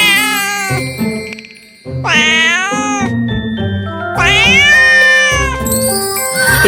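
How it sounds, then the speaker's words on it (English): Several loud, drawn-out cat meows close by, one after another with short pauses, some rising into wailing cries. "It's a cat."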